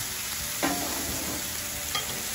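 Shrimp and vegetables sizzling on a Blackstone griddle for hibachi-style cooking, a steady close frying hiss with a couple of brief scraping stirs, and no one talking.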